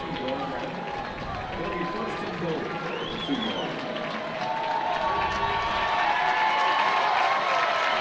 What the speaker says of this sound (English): Boerne fans standing up, cheering for their Purple People Eaters